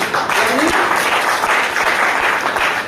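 Audience at a company product presentation bursts into loud, dense applause, a steady wash of many hands clapping close by for the whole stretch without a break.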